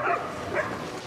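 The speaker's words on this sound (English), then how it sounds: "The dog is barking at one position the whole time" A hunting dog barks during a driven wild boar hunt in Sweden, giving two sharp barks from a moderate distance with a faint low rumble underneath.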